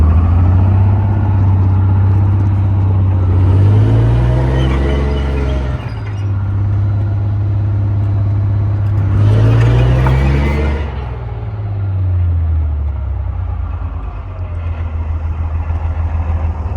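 Car engine running during a steering test, a loud low idle that swells into two revving bursts before settling back to a steady rumble, no talk over it.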